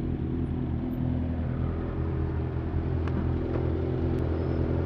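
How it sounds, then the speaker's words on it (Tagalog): A car with an Austin Racing dual exhaust on a street in Dagupan City gives a continuous deep engine rumble. The rumble is loud and close and holds steady for the whole stretch, with no speech. "Narinig ko yung kanyang Austin Racing dual exhaust along Dagupan City."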